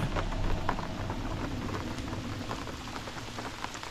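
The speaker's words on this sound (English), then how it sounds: "Instead, it brought the rain." Steady rain falling across a wide area by a river, a dense hiss with scattered drop patter and a low rumbling undertone, fairly loud and constant.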